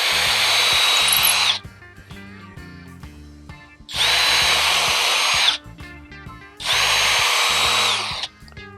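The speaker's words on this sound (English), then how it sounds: "I'm going to go ahead and pre-drill." Power drill pre-drilling holes in wood for screws while building a rolling workbench, three loud sustained bursts of whining drilling separated by quieter pauses with light clatter.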